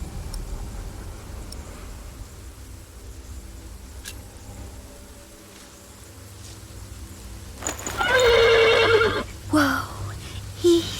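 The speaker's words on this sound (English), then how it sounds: "The horse nearly woke the guard." A horse whinnies loudly and close by in a quiet outdoor night setting, a rising then falling cry following a stretch of low background hum and faint movement, with a brief second snort after it.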